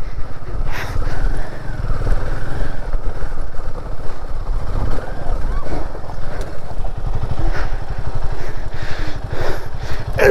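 Royal Enfield Himalayan 450 motorcycle ridden over a rough, rocky mountain road in Spiti Valley, its engine droning steadily and loud throughout with rumbling and jolting from the terrain.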